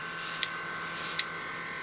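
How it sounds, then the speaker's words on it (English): A cheap Aldi airbrush kit sprays paint in two short hissing bursts, each ending with a sharp click, over a steady compressor hum. "it seems to be spraying this alright"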